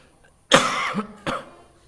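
Two close, harsh coughs from a speaker during a religious lecture, the first longer and raspy, the second shorter, with quiet room tone around them.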